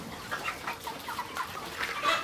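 Broiler chickens about 48 days old cluck repeatedly while being set on a scale for weighing, several short, moderately loud calls spread unevenly over a steady background.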